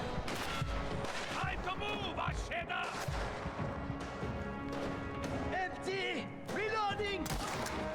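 Gunfire in the video game Mafia: The Old Country, a run of close sharp shots over music and game noise, with voices breaking through in places.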